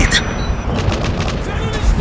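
Call of Duty MW3 multiplayer gunfire from dual-wielded weapons, a dense run of loud booming shots with a voice talking over the firing.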